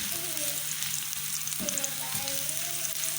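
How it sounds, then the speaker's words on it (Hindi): Garlic, onion and vegetables sizzle in ghee in a pan for chicken and vegetable soup, with a steady close frying hiss and occasional scraping stir sounds throughout. "ज़्यादा देर नहीं पकाना है, बस 2 मिनट थोड़ा सा हिला लेना है इसे"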